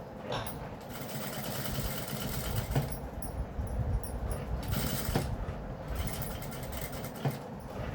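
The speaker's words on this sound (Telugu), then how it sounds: "తర్వాత ఇలా తిప్పేసి పైన కుట్టేసుకోండి. నీట్గా అంచున కావాలి కుట్టు." A sewing machine stitching the neck part of a cut-work dress, a steady close mechanical whir that runs continuously with slight shifts in speed and a few handling knocks.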